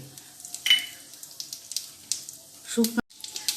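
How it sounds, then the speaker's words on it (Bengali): A tempering of cumin seeds, dry chilli and bay leaf fries in oil and ghee, giving a soft crackling sizzle broken by brief clinks of a utensil against the pan. "এবার ফোড়নটা একটু ভাজা হবে, সুন্দর গন্ধ ছাড়বে।"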